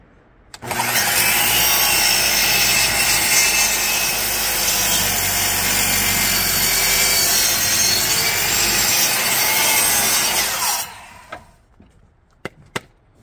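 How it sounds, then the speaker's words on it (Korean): A power saw cuts through wood for a 15-inch subwoofer enclosure, a loud, close, continuous whining rasp lasting about ten seconds before stopping abruptly, followed by a few light knocks. "일단 잘라보겠습니다."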